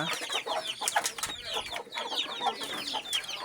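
Chickens cluck busily and close at hand around mixed feed for chickens and pigeons, a dense overlapping chatter of short calls with no talk.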